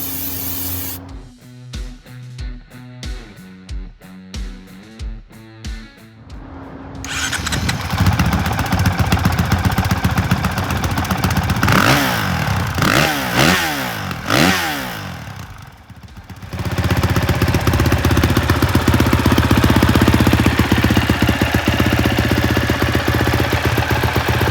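Dirt bike engine, a 2023 Honda CRF450R fitted with a Yoshimura full exhaust system, starts after a sharp spraying hiss, revs in loud rising and falling bursts, then settles into a steady, loud, close idle with no talk.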